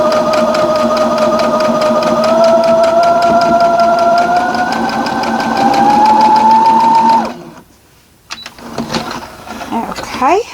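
Sewing machine stitching quilt seams in a steady, close whir that rises slightly in pitch, then stops, followed by a few faint handling sounds.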